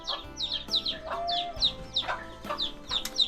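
A chicken in a rural mountain village clucks in a series of short, sharp calls repeated close by, with faint low background noise and no talking.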